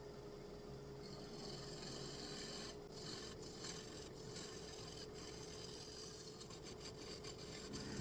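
A carbide lathe tool cuts into a spinning black walnut and resin bowl, giving a steady, close scraping and rasping that holds an even level throughout.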